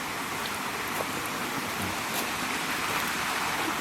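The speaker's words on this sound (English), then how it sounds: "Not a massive waterfall," A small waterfall beside a stream near a mill and staircase locks, with steady broadband rushing and splashing water filling the air continuously on a hot day, fairly close and unbroken.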